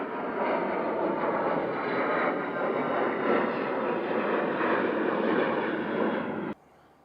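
Beechcraft King Air 200 turboprop departing during a busy sunny morning at Centennial Airport, a loud steady broadband engine and propeller roar held close for several seconds before cutting off abruptly.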